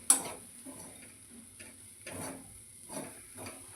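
A spatula stirs sprouts and egg together in a pan, giving a few scraping, clinking strokes over a soft sizzle, close and fairly quiet with no talking.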